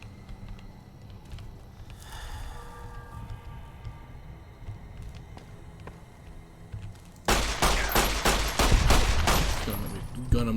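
Gunfire in the video game Fallout New Vegas: quieter combat ambience gives way to a loud, rapid string of close gunshots that keeps going to the end, with a voice talking over parts of it.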